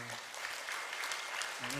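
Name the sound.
applause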